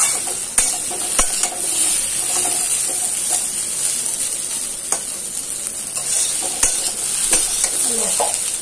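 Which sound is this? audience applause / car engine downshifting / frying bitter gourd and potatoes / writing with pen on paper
frying bitter gourd and potatoes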